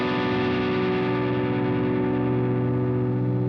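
Electric guitar played through a BOSS GT-1000 with the compressor turned all the way up, giving one loud, dense, sustained chord that nearly distorts and fades only slightly.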